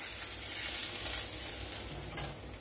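Hot oil tempering with curry leaves is poured over vegetables for Kerala-style aviyal, giving a steady close sizzle and crackle that runs throughout with no talking.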